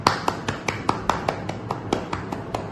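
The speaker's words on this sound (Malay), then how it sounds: "Kawan-kawan semua tepuk tangan." Classmates in a classroom clap their hands in about a dozen distinct, fairly even claps spread across the moment, close by and moderately loud with no talking.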